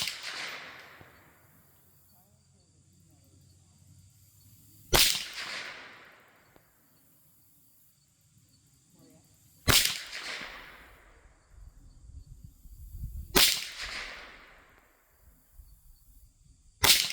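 Four sharp, loud shots from a Remington 597 .22 LR rifle firing Aguila ammunition at a 35-yard target, spaced several seconds apart, each cracking and then decaying into a short ringing tail, with no talk between them.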